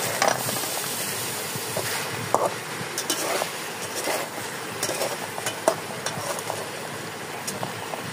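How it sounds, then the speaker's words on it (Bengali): Small mourala fish stir-fried in a pan for a Bengali home-cooked dish, with a steady close sizzle and frequent scraping stirs and clinks, and no talking. "এবার এর মধ্যে দিয়ে দিতে হবে মৌরালা মাছ দিয়ে এতে খুব ভালো মতো একসাথে সব নাড়িয়ে ভেজে নেব।"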